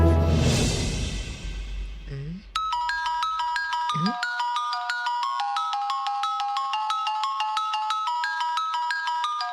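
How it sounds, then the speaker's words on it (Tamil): An incoming-call ringtone on a phone in a domestic scene from a Tamil TV serial: after brief talk and a short rising tone, a bright repeating melodic tone plays steadily and loudly alone for about seven seconds. "மாப்பிள்ள தம்பி எதுக்கு ஃபோன் பண்றாரு?"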